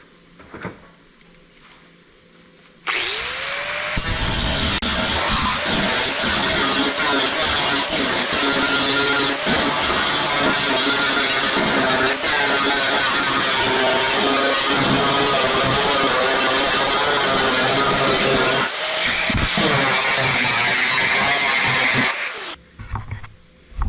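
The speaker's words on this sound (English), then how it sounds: "I'm going to run the grinder in here. There's a little bit of old weld I need to take off." An angle grinder removing old weld from the steel bed of a 1959 Chevrolet truck, a loud continuous roaring grind that starts abruptly and runs for about sixteen seconds before winding down, heard close up.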